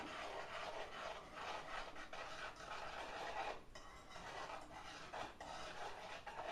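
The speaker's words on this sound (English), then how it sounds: "We're just going to whisk this together real good." Chocolate cake batter made with Guinness being whisked in a bowl, a faint, steady scraping and rubbing with a few brief clinks of the whisk against the sides.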